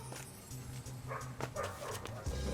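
A dog barks repeatedly somewhere near a driveway, sharp yelps and short barks over a low rhythmic background hum, moderately faint in a brief burst.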